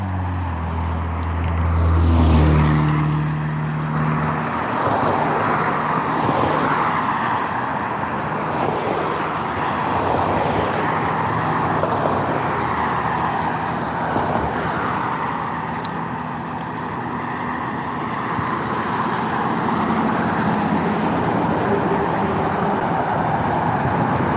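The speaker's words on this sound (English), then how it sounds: "Here we got the Georgia State Patrol vehicle number 384" A Georgia State Patrol car drives past on the road, its engine and tyre noise swelling loudly early on and then fading into a steady wash of traffic noise that lingers for the rest of the stretch.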